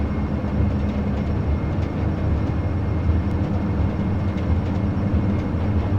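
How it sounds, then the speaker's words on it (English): Turboprop engines of a Majestic Q400 airliner in a flight simulator run at full throttle during the takeoff roll, a steady loud low drone with a constant rumbling hum and no pauses. "Advance the throttles, make sure they're stable, advance them to full,"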